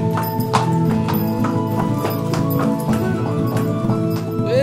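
Steady, loud clip-clop of horse hooves walking in an even rhythm over a dense, ringing backdrop in the old city of Akko.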